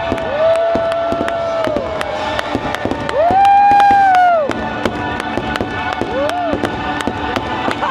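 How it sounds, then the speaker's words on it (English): Fireworks boom and crackle at a distance during the Happily Ever After show at Walt Disney World while music plays and a crowd murmurs, with occasional sharp pops scattered throughout. "It's just the fireworks and the projections and the music."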